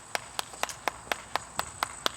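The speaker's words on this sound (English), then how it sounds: "One single person clapping." One person claps alone in a garage workshop with Honda CX500 motorcycles, about nine steady, evenly spaced claps of moderate loudness, with no voices in between.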